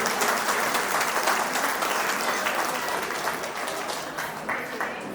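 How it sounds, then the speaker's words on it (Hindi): A crowd at a police line get-together claps for volunteers, producing sustained, even applause throughout that fades slightly toward the end. "तो एक बार जोरदार मेरे भाइयों के लिए, वॉलेंटियरों के लिए ताली हो जाए।"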